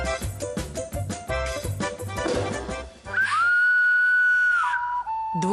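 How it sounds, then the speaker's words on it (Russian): A handmade clay whistle sounds a steady, loud, pure tone held for about a second and a half, then drops to a lower sustained note, following a burst of bright, busy background music. "Свистулька издала звук."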